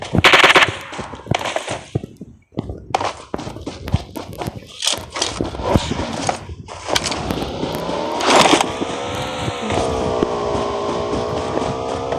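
Rapid automatic gunfire from an M416-style rifle in the mobile battle royale game PUBG Mobile, loud bursts of shots mixed with other game sounds, ending with a sustained engine-like drone.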